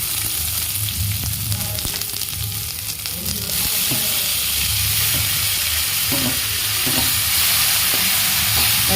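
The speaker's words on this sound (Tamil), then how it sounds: "தக்காளி போட்டு நல்லா வணக்கிடுங்க" Chopped onions and tomatoes sauté in a pan for a coriander chutney, giving a loud, continuous sizzle and hiss with occasional stirring scrapes.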